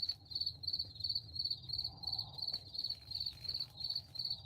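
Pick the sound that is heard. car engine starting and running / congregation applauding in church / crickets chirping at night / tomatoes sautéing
crickets chirping at night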